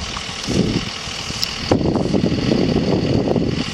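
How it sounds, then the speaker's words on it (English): Wind buffets the microphone outdoors in a flower bed, a loud, rough rumble that swells in gusts and grows stronger partway through. "Sorry about the wind, but it sure does feel good."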